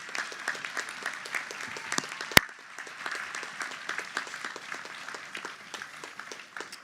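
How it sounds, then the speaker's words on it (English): Graduates at a university spring commencement applaud, a moderate, steady patter of many hands heard from a distance, with one sharp loud clap standing out early and the clapping thinning slightly toward the end. "please join me in a big round of applause for these special people in your lives"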